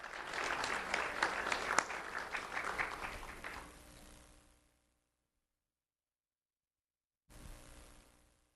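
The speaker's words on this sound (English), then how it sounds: "Let's have a round of applause for Jaden Torres." Applause from an audience at a student honors ceremony rings out for a few seconds, fades to silence, then returns as a brief burst of clapping.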